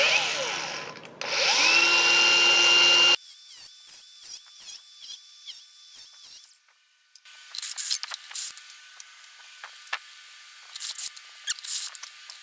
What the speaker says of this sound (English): got our holes drilled, just big enough for our compression fitting